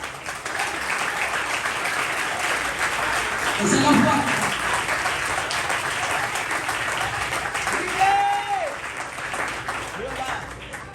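Congregation applauding at a church congress service, steady clapping throughout with a preacher's voice speaking over it and brief sung or shouted tones near the end.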